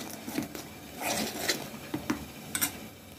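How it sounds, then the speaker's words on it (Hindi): Thick batter for fried cauliflower pakoras being mixed in a bowl, a faint, close series of soft wet stirring squelches and light utensil taps against the dish, irregular and without speech. "आप इस बैटर को अच्छे से मिला लें और इसका हम लोगों को एक थिक पेस्ट बनानी है"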